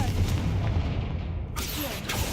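The Confringo fire spell cast in Hogwarts Legacy, a dense booming blast with crackling rumble that sustains throughout, with a sharp burst partway through, loud and close.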